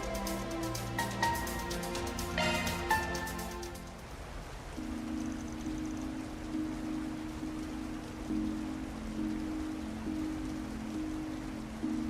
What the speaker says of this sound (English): And of course, it's still raining.